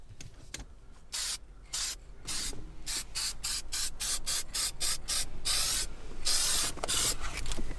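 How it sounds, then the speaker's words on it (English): Aerosol spray can giving a run of short test bursts and longer sprays during a steering wheel hole repair, each a close, loud hiss separated by brief pauses, with no talking. "Just do a couple test sprays, make sure the can is spraying nice."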